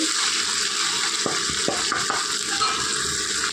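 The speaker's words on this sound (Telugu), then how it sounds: "ఎర్రగా ఫ్రై చేసుకోవాలి పచ్చివాసనం పోయేంత వరకు" Onions, ginger garlic paste and chicken fry in a pan for pulao, giving a soft, steady sizzle close by. A few light stirring scrapes break through the hiss.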